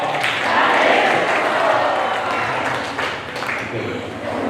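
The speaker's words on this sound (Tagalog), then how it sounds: "Palakpakan po natin ang ating Panginoon" Applause from a church congregation at a Filipino worship gathering, a broad sustained wash of clapping with voices and crowd murmur running through it.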